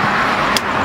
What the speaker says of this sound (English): Got the car started, my man.